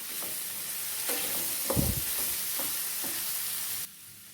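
Tomato masala with fennel being sautéed in a pan over raised heat, giving a soft steady sizzle with a few louder stirring scrapes near the middle before the sound cuts off.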